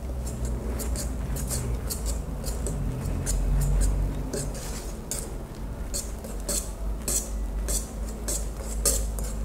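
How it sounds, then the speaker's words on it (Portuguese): Cake batter being folded gently by hand in a bowl, a soft continuous scraping and clinking of utensil against the dish, steady and close, with faint ticks throughout. "Agora eu vou misturar aqui com delicadeza para que não perca nessa leveza da massa."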